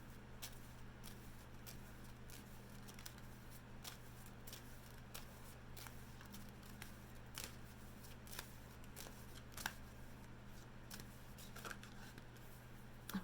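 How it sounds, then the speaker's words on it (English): Tarot cards being shuffled close by: a quiet, steady run of soft riffling and crisp flicks over a low background hum, with no talking. "I promise I'm shuffling"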